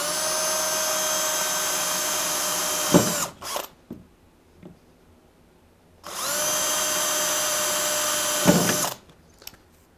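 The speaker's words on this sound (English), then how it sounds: "After that, you'll want to pre-drill the holes" A power drill with a 3/16-inch bit whines steadily in two long bursts drilling holes in PVC rail, each ending with a clunk and brief rattling, with quiet pauses between.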